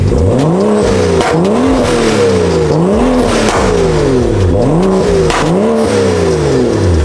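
A BMW F82 M4 engine revs hard again and again, its loud exhaust note climbing and falling in quick waves, with sharp cracks and pops from the flame-shooting exhaust cutting through the roar.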